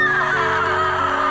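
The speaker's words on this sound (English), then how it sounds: "Once you grab the rope, you hear a scream" A scream in the horror video game Harvester, one sustained strained cry lasting over a second, loud and close with no talk over it.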